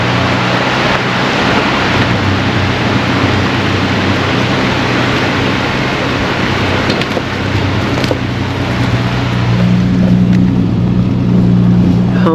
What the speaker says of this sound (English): we're sitting on that beautiful creek. It's rushing down below.